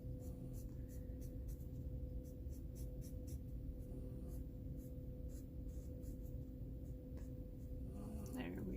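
A Taotree marker scratches across paper in quick, faint repeated strokes over a steady low hum, close and quiet, with a voice speaking softly.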